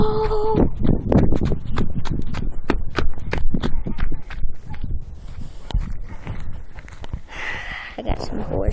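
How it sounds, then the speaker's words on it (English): Horses' hooves clip-clop in a steady run of sharp knocks on hard ground, fairly close, with excited voices talking over them and a few other outdoor noises toward the end. "I got some horses."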